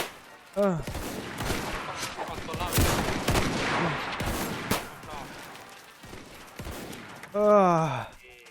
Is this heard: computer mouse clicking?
no